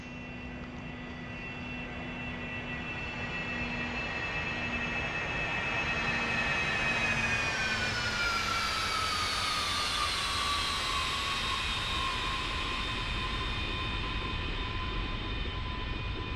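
A Cessna Citation S550 business jet on landing, heard from the cockpit as a loud continuous engine roar with a high whine that slides downward as power comes back, no talk.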